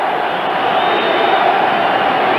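A football stadium crowd cheers at Philadelphia as the Eagles host the Washington Redskins in 1992, a loud, continuous roar of many voices that holds steady throughout.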